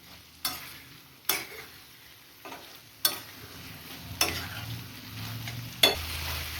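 Potato pieces stirred in a pan on a gas stove, six distinct scraping strokes spaced about a second apart over a quiet, faint sizzle.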